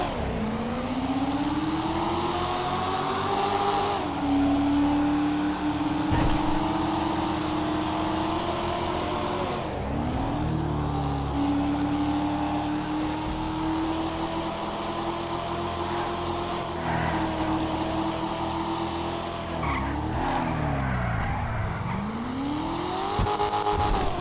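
Corvette Backfin, a two-door muscle car in a video game test drive, with a steady engine drone whose pitch rises and dips through gear shifts and revs, carrying on loud and continuous with no talk.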